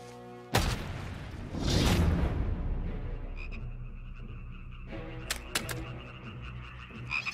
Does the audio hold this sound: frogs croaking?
yes